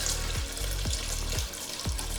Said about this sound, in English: we're gonna pour some water into the reservoir